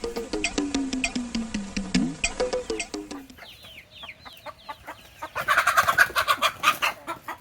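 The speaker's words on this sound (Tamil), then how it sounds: "வலையை வச்சு, மீன் வலையை வச்சு கோழியை பிடிக்கிறோம்." A country chicken being caught with a fishing net clucks and squawks in rapid, agitated bursts close by, rising into a louder frantic flurry toward the end.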